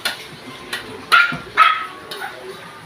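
A few dogs at home waiting to be fed, including a nursing mother dog, let out a handful of sharp, separate barks and yips in quick succession, fairly close and with short gaps between them.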